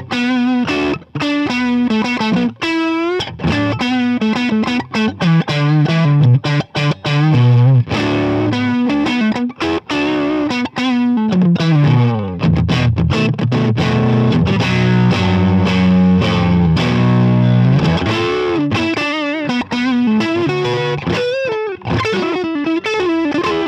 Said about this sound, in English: those super big, beefy neck tones that you just associate with a Telecaster